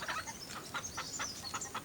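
Chickens cluck in short, evenly spaced bursts near a rural farmhouse, soft and a little distant, with no talk.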